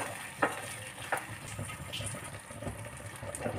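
Chilli paneer with Kashmiri red chilli sizzling quietly in a pan, with a few scraping stirs of a spoon over a steady low fry.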